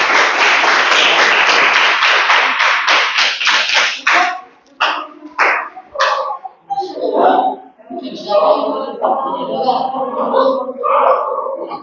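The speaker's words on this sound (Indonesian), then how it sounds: "tepuk tangan untuk kelompok kami" Classroom group applause after a micro-teaching presentation, dense clapping for about four seconds that thins into scattered claps, followed by people talking.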